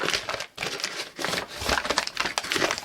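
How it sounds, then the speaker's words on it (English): A regular sheet of copy paper being crumpled by hand, a close, continuous crackling and crinkling that comes in bursts with brief pauses. "let me just grab a regular piece of copy paper, crumple it up, open it back up"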